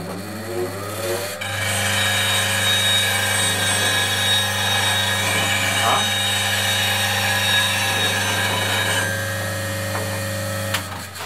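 A steady, loud whirring hum of a bench grinder runs throughout, with a gritty metallic grinding texture as a wood-turning chisel is pressed against the wheel, no talking.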